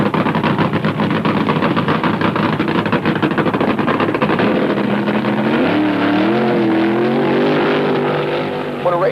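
A drag racing car engine roars at Beeline Dragway during the 1974 AHRA Winternationals: a loud, continuous, close blast that climbs into a rising, wavering revving tone in its last few seconds.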